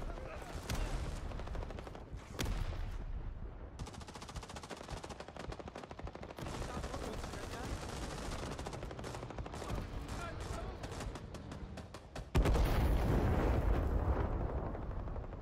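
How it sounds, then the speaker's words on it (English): Rising Storm 2: Vietnam battle with dense rattling automatic gunfire and scattered shots throughout, ending in a loud, sustained roaring blast as a napalm strike lands, mixed with faint in-game voices. "Napalm, inbound."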